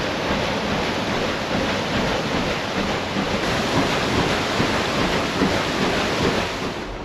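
Rushing water pours steadily at the Zuppinger water wheel, a broad, loud, continuous roar with no pauses and no voices.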